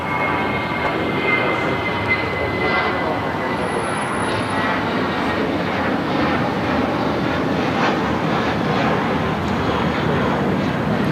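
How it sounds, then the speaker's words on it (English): A Spirit Airlines Airbus A320 takes off at LAX with a loud, continuous engine roar that stays steady throughout, broad and rumbling and close by. "This is Spirit Airlines 449 taking off to Atlanta on the A320."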